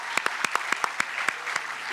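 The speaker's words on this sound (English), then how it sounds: "A huge clap to all of you guys as well." Audience clapping after a Bharatanatyam dance recital, heard as a short run of sharp, evenly spaced claps, fairly soft and somewhat distant, with no voices over it.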